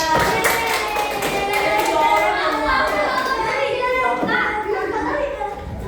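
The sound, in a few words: children clapping in class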